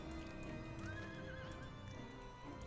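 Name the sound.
horse neighing and hooves in video game Final Fantasy 14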